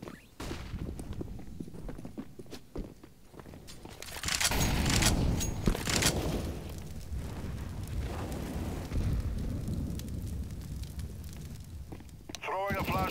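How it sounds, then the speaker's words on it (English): A flashbang grenade goes off in the Counter-Strike game as a loud, broad burst midway through, surrounded by gunfire, footsteps and players' voices calling out. "Flashbang out!"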